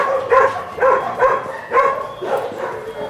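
Dogs at an animal refuge bark in a rapid run of six or seven close, evenly spaced barks, mixed with a few higher yips.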